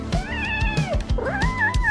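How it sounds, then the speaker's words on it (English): A cat meows in two drawn-out, wavering cries close by, with a brief break between them and no talking. "Uh-oh, you've made Kitty cry."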